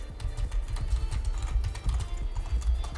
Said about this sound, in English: my keyboard's going crazy